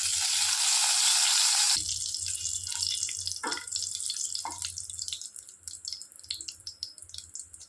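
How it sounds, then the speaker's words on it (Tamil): Whole spices crackle and sizzle in hot oil in a pan for soya chunk gravy, a steady close frying hiss that follows a brief rush of running water at the start. "எண்ணெய் காஞ்சதும் இந்த ஸ்பைசஸ் எல்லாம் இதில் போட்டுக்கலாம்"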